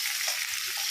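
Pounded onions sizzle loudly in hot oil as they are stirred, a steady close hiss of frying.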